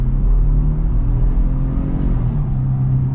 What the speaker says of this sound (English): Get our acceleration here.